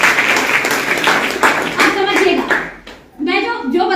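An audience at an Ok Life Care training event in Kaimur, Bihar, bursts into a round of brisk clapping, loud and close, which tapers off before a speaker resumes talking near the end.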